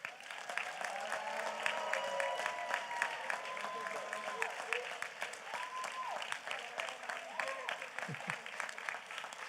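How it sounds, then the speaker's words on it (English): Steady audience applause for newly presented Eagle Scouts at a Boy Scouts of America Court of Honor, sustained clapping from a crowd of moderate size at a fair distance, with faint voices mixed in. "Let's give them a round of applause."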